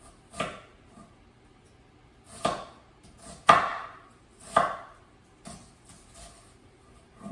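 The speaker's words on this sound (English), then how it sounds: "There's half an onion diced." Knife chopping an onion in rhythmic bursts, several distinct close, crisp chops separated by pauses, with no talking.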